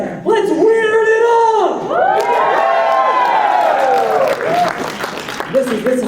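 A convention crowd at a wrestling show cheers and whoops loudly, with sweeping, sustained shouts and voices rising and falling close by over scattered clapping.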